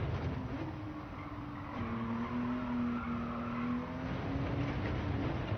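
A race car in Gran Turismo 7 brakes hard and downshifts to third during a time trial, the engine note dropping then holding a steady loud drone with faint tire scrub throughout.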